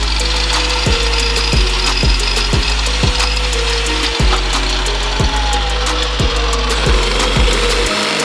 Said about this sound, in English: To the bandsaw.